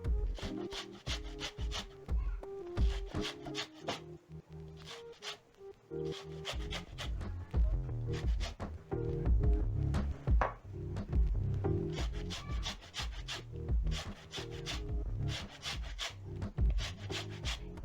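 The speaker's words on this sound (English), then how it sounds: "Next, I'm going to be zesting 2 tablespoons of orange zest." A very fresh orange is zested with a hand zester, making soft, close scraping and rasping strokes in an irregular rhythm over about eighteen seconds, with no talking.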